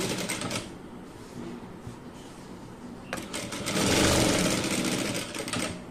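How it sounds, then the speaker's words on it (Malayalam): A sewing machine stitches along the folded edge of a fabric piece, a fast steady mechanical whirr of the needle running in two bursts with a brief pause between, close and clear. "ഇനി ഇതിന്റെ ഈ സൈഡ് ഒന്ന് സ്റ്റിച്ച് ചെയ്ത് എടുക്കണം"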